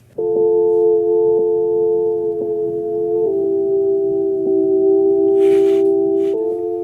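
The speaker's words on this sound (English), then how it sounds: "thinking like a cool analog-y pad here." A sustained analog synth pad, warm and droning, holding chords that shift every second or so, played alone with a faint click at the start.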